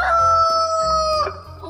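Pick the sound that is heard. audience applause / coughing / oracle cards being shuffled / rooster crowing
rooster crowing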